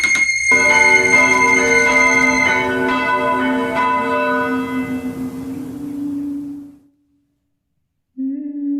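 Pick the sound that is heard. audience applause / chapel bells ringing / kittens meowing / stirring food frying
chapel bells ringing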